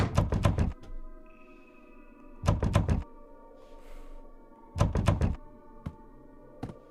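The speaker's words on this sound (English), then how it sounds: "Heard the door smash again." Three heavy door smashes in a video game, each a dense cluster of rapid loud thuds about two seconds apart, separated by a low ambient hum with a faint tone and a soft hiss between them.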